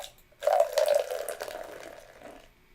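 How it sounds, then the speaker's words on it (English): Malt liquor from a 40-ounce bottle pours into a cup on a table in one steady gurgling stream lasting about two seconds, close and fairly loud, then tapering off, with no talking. "I'm going to go ahead and do an official pour of the 40"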